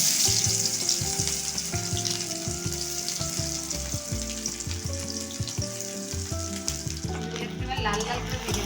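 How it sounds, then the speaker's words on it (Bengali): Chopped onions frying in hot mustard oil in a wok for a spicy Kolhapuri chicken, a steady loud sizzle with stirring scrapes and clinks running throughout, no talking. "আমি এবার পেঁয়াজ কুচিগুলো দিয়ে দিলাম।"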